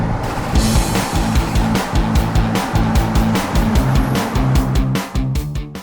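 A 2020 Nissan GT-R 50th Anniversary edition under way, its engine droning loud and close with rhythmic pulsing revs and a steady rumble throughout, no voices.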